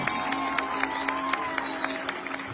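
An audience claps for two singers at a village solidarity night, steady mid-distance applause with scattered sharper claps and faint voices underneath.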